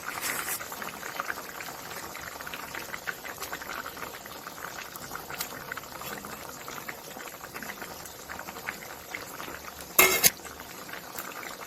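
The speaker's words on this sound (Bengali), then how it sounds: "এরপর এই জলটা ফুটে আসুক" Water coming to a boil in a pot of thin fish curry with ridge gourd, a soft steady bubbling and simmering hiss, fairly quiet, with a single sharp metallic clink near the end.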